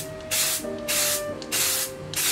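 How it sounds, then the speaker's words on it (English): Silver spray paint hisses from a can in four short bursts, each a loud steady hiss with brief pauses between them. "now I'm gonna spray paint these in silver."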